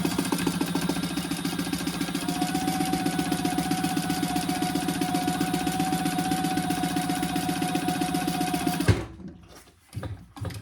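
A sewing machine runs steadily, top stitching the folded fabric edge of a slim duffle bag with a fast, even mechanical chatter for several seconds before stopping abruptly into near silence.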